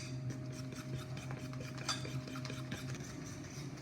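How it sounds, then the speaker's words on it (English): Yeast-and-milk batter being stirred into flour in a bowl, giving a soft, continuous scraping and swishing with faint utensil clinks, quiet and close. "Stir that until it's well blended."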